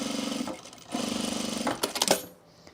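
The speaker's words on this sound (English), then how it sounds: "I'm just gonna top stitch this edge since this is my last chance" A domestic sewing machine top-stitches the edge of a fleece quarter-zip pullover, two close bursts of steady whirring with a short pause between, then a few clicks and clunks as it stops.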